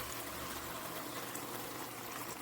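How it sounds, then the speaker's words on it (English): Water pours into a pot of potatoes cooking in a spiced mixture, a steady, faint, gushing splash with a sizzling, bubbling edge, continuous and without talk. "Now we're going to add 2 cups of water to that"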